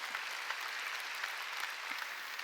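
Church congregation clapping steadily through a sermon, a dense even patter of many hands at moderate distance with no voices over it.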